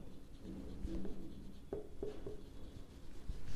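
Pen writing on a notebook page during an accounts lesson, soft scratchy strokes with a few short taps, faint and close under a low background hum.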